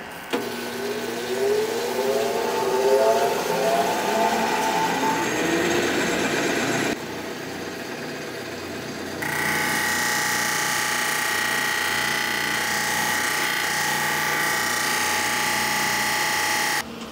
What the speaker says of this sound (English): Let's plug in our pump.